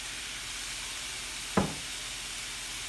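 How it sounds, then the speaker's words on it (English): Soy sauce and oyster sauce hit fried rice in a hot wok with one sharp, brief sizzle burst midway, over a steady background hiss of frying. "Let's get that all stirred in"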